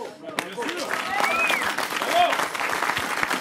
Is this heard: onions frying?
no